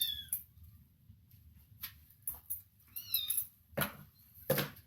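A cat meows several times, short high mewing calls spaced irregularly over a quiet, faint background, close and fairly soft.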